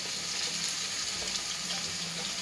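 Steady hiss of finely chopped onion and green chillies frying in hot oil with mustard seeds and cumin, a continuous close sizzle without pauses or talk.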